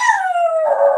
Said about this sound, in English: the mailman's walking by, so the dog is barking.